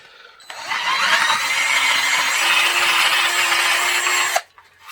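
A Black & Decker 18-volt cordless drill whirs steadily into pallet wood for about four seconds, close and loud, then stops abruptly with a brief clatter.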